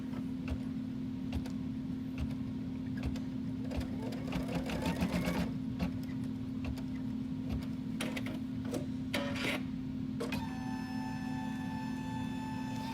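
Close and steady, a sewing machine hums and ticks as it stitches a pleat on a face mask cover, with a constant motor drone and rapid needle clicks running throughout.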